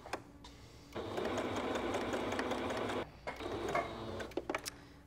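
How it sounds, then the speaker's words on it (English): A sewing machine runs a basting stitch on fabric for a ruffle, a fast steady mechanical whir lasting about two seconds, followed by a brief restart and some clicks, all fairly quiet and close. "So we're going to sew our second basting stitch now."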